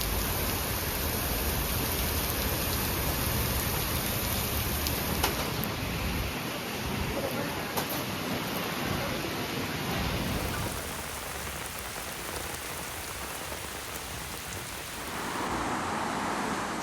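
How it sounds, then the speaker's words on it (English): Heavy rain pouring steadily during a storm in Paris, a dense continuous hiss of drops on surfaces with a low rumble beneath, loud and unbroken throughout. "Paris experienced extremely heavy rainfall"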